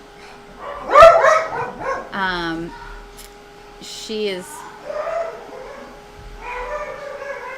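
Several dogs, including a grouchy one that dislikes everyone, bark and yip in excited bursts at close range, mixed with someone talking over them and a steady background hum.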